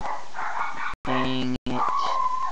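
Dog barking and yipping close by in a home, a few sharp barks among a man's speech.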